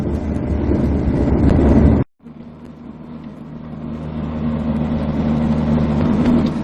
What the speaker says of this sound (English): The A35 maintains a comfortable cruising speed